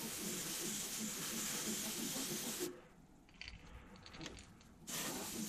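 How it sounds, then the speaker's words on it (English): An airbrush sprays Createx Candy 2.0 paint mixed with 4030 intercoat clear onto a holographic crankbait lure: a steady close hiss that cuts off midway, leaves quieter fiddly handling noises, then resumes. "You normally can't spray candy the way I'm doing it unless you mix an inner coat clear with it."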